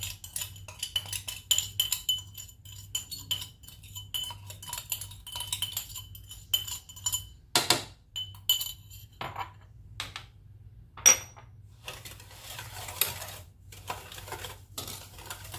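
A spoon clinking and scraping against a bowl as basbousa batter is stirred, quiet irregular metallic taps over a low steady hum, with sharper clatters toward the middle and end.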